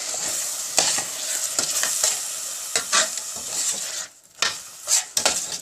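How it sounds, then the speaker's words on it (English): Pureed tomatoes stirred into frying masala for paneer tikka masala, loud hissing sizzle broken by repeated spoon scrapes against the pan, then a brief lull before stirring resumes. "So here goes my pureed tomatoes. Give it a stir."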